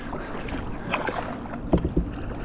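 Motorboats pass close by a sea kayak on the Swedish coast, with a continuous wash of water and wind and a few sharper splashes and knocks near the end.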